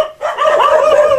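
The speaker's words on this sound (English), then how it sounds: "there's somebody that's arriving, so the dogs are barking" Dogs bark loudly and close by as someone arrives, a quick run of sharp, overlapping barks and yips after a brief quiet start.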